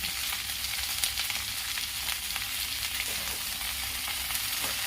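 Cauliflower with salt roasting in a pan on a low flame, a faint, even hiss of frying with occasional quiet stirring scrapes throughout.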